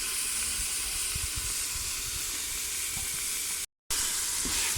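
Khoya fries in desi ghee for carrot barfi, a bright, constant hissing sizzle close up with soft stirring knocks underneath, cut by a brief gap of silence near the end.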